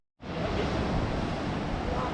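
Ocean surf at Santa Maria in the Azores washing over the rim of a natural rock pool, a continuous, loud, broadband rush of breaking water that starts abruptly and holds steady with no lull.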